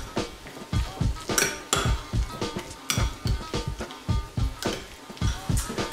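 A spoon stirs a yogurt and fenugreek leaf mixture with cilantro in a dish, making rapid, rhythmic clinks and scrapes against the bowl, close and fairly loud, with no talking.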